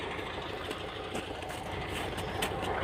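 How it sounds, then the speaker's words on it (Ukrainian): A YuMZ tractor engine labours steadily while ploughing a field through a layer of snow, its continuous diesel drone close and even with faint rhythmic knocking, no voices. "Трактору вдається вчепитися, глибина нормальна, трошки пробуксовує."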